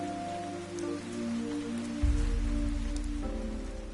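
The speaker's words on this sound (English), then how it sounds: "even the rain soon began to weaken" Steady rain pattering on surfaces in the video game Fantasian Neo Dimension, a soft, even hiss that thickens and grows heavier about halfway through, with no voices.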